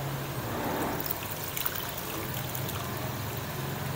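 Plain tap water pours steadily into a container over frozen meat to thaw it, making a continuous trickling splash with some small bubbly spikes throughout.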